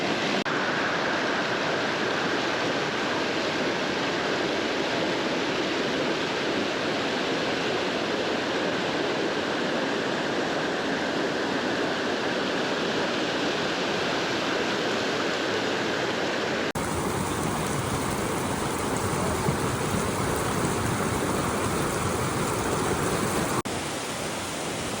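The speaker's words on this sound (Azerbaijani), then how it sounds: "Qanslar şəlaləsini görürsünüz." Qanslar waterfall in Zaqatala, Azerbaijan, pours as a steady, loud broadband rush of falling water that holds constant throughout, with a slight shift in tone near the end and no voices.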